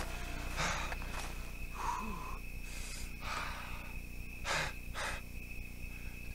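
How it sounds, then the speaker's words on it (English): A running character in Red Dead Redemption 2 breathes heavily, a handful of harsh, close panting breaths and snorts spaced about a second apart over a faint steady background hum. "I never noticed that John makes sounds, like, really heavy breathing sounds when we run"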